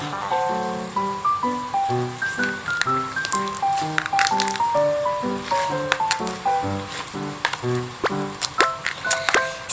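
Handmade blue slime being squished and stretched, a steady stream of wet squelching and sticky popping clicks, close and clear, over soft background music.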